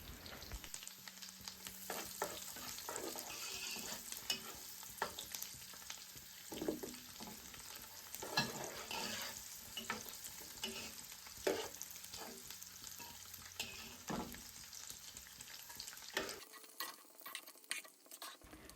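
Zarda ingredients fry in a pan with a soft, steady sizzle, broken by scraping and clinking as a spoon stirs them at irregular intervals, close and fairly quiet.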